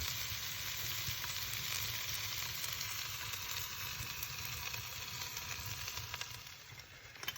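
Steady, continuous sizzling of food frying over high heat on an open fire, a dense crackling hiss that holds evenly throughout with no talking.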